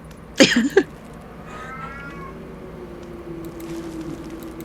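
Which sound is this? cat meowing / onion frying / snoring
cat meowing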